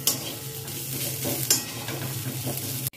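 Poppy seeds frying in a pan for a methi malai dish, a close, steady sizzle with spoon stirring and scraping, including a sharper scrape midway, ending with an abrupt cutoff.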